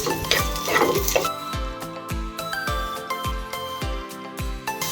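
Onions and curry leaves sizzle in a pan for shark fish curry, with a spoon scraping and clinking against the metal in a quick, regular stirring rhythm over the soft hiss.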